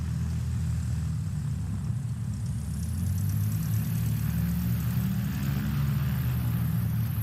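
A Cessna 150 Aerobat light aircraft taxis past at a STOL practice event, its propeller engine a steady loud drone that swells slightly as it passes, heard alone without voices.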